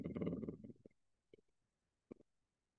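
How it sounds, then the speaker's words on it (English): A voice does a lip flutter vocal exercise: a brief buzzing trill of the lips, followed by a couple of short faint bursts and quiet. "Lip fluttering goes like this."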